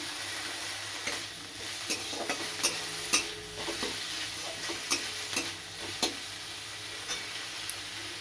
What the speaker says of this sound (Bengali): একটু ভেজে নেব এখানে আমি দিয়েছি টমেটো কুচি আর আদা রসুন আর লঙ্কা পেস্ট